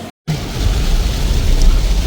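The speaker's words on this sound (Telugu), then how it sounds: "వర్షం మాత్రం కుమ్మేస్తుంది పొద్దున్న నుంచి." Heavy rain pours in Pattaya, Thailand, making a loud, dense, continuous roar. It begins after a short moment of silence and stays steady to the end.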